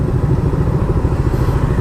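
A motorcycle engine runs loud and close beside an elementary school, a steady, even rumble throughout as the bike is brought to a stop and parked, with no voices.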